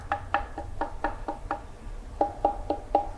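Knuckle taps on a clay pot, whose tone shifts with how wet or dry the clay is, give about a dozen short, dull knocks at a steady rhythm, close and fairly quiet, with no talking.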